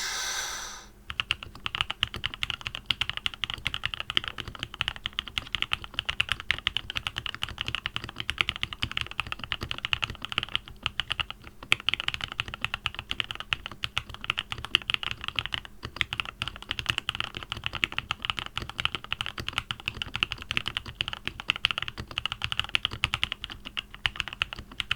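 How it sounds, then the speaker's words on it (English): Steady, rapid clatter of keys on a computer keyboard, typed continuously at close range with no talking. "we'll have a crack at this keyboard"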